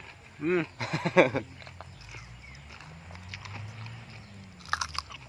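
Homemade crispy pork belly being bitten and crunched, a few loud crisp crunches near the start, then quieter chewing, with another burst of crunching near the end.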